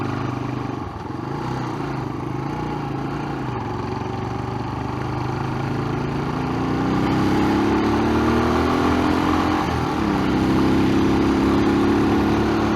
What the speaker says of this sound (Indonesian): Lihat ini New Mega Pro gagah nih. Ini motor yang saya pengen tapi sampai sekarang belum kesampaian punya.